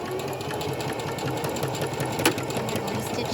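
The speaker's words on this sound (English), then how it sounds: "we're going to stitch forward, and then we're going to back stitch" A sewing machine stitches a fabric channel on a ribbon tutu, running forward then back in a steady close whir of rapid needle strokes, with one brief sharp click midway.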